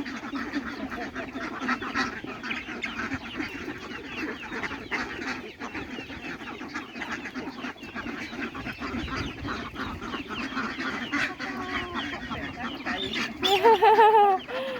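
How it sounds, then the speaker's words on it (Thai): Farmyard ducks and geese honk and quack steadily throughout, with chickens nearby, a louder burst of honking near the end over a busy background of birds. "เป็ดก็มีไก่ก็มี"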